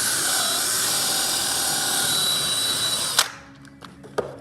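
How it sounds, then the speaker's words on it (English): A power drill bores a hole with a loud, sustained high whine for about three seconds, then stops abruptly, leaving a few faint clicks and knocks. "the trick is not to break your drill bit"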